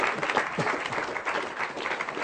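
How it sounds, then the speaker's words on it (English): A live audience applauds at the Awesome Games Done Quick 2015 charity speedrun event during a Super Mario Bros. The Lost Levels run, producing dense, steady clapping that fills the room for a couple of seconds. "Why are you clapping at that?"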